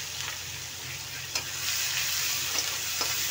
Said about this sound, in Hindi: इसको हम गोल्डन कलर आने तक अच्छे से मिक्स करते रहेंगे और फ्राई करेंगे प्याज को।